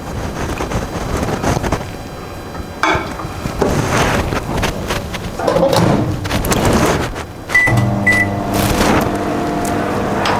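A microwave oven running, a loud continuous hum and whir close by with a shift in tone partway through and a few brief high beeps near the end.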